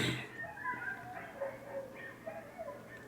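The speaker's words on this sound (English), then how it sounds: "Besides my neighbors playing with their dogs right now while I'm trying to film." Neighbors' dogs bark and yip while playing outdoors, moderately distant, with scattered whimpers and yelps over a low steady hum.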